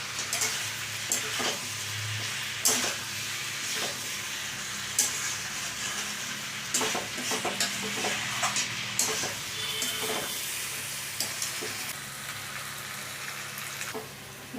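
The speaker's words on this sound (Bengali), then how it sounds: "এবার ভালো করে মশলাটা কুমড়ো আলু টমেটোর সাথে মিশিয়ে নিচ্ছি।" Spice masala being stirred together with pumpkin, potato and tomato in a hot pan: continuous sizzling with irregular scrapes and knocks of a spoon against the pan, close and steady, with no talking.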